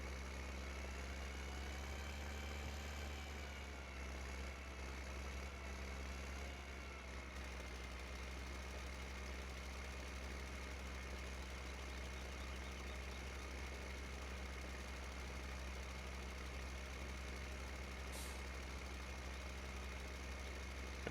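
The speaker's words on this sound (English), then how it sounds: "See in the back corner, our cedar tractor is still running good." Tractor engine idling steadily in the Farming Simulator 15 farm game, a continuous low droning hum with a faint knocking rumble, holding evenly throughout with no talk.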